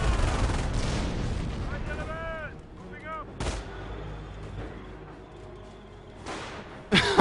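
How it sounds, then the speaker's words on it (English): Sniper rifle shots ring out in a multiplayer war video game match with a flamethrower tank in action. Sharp, loud single cracks are spaced apart, with a commentator's voice audible between them. "I think the sniper just took a pot shot at the Croc"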